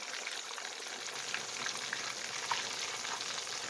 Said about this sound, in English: I'll flip them over in the pot. Let them cook some more.